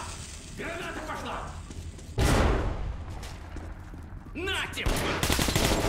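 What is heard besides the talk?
grenade explosion and gunfire in Metro Last Light Redux video game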